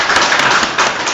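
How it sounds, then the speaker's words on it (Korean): Audience at a teachers' training lecture claps together in welcome, a close, steady wash of many hands with no voices over it. "우리 서로 박수로 환영하시면 반갑습니다"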